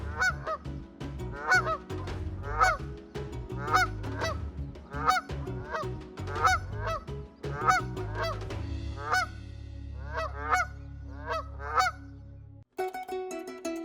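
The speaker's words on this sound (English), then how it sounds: "These crater lakes are home to flocks of flamingos, turning the waters pink during certain times of the year." A flock of flamingos calls at a crater lake, with loud, goose-like honks repeated in quick, uneven bursts over a low background rumble.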